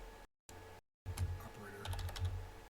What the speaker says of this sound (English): let's just type these up